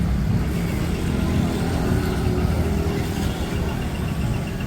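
Steady traffic rumble fills an evening street in Dehradun, with cars and other vehicles passing continuously while rain hisses over it. The wash of sound stays dense and even throughout, with no voices.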